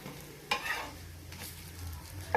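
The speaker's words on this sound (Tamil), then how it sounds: "இப்போ அப்படியே லைட்டாக சிம் பண்ணிக்கோங்க." Food simmers and sizzles gently in a pan, a soft continuous bubbling hiss with a couple of brief scraping stirs. No voices.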